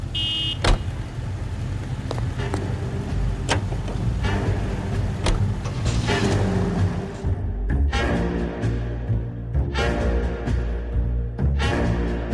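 A car engine drones steadily while driving in the video game L.A. Noire, with sharp clicks and brief tonal blips cutting through the continuous rumble, loud and close throughout.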